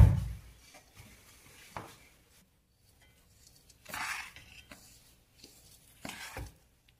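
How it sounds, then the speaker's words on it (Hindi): A spoon slowly stirs ground makhana, chickpea, almond, walnut and sesame powder with spices in a pan for panjeeri made with flaxseed oil, giving soft scraping sweeps and occasional clinks in separate bursts. "और इसको धीरे धीरे हम हिलाते जाएंगे, मिक्स करते जाएंगे।"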